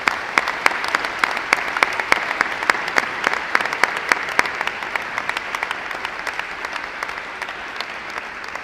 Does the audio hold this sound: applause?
yes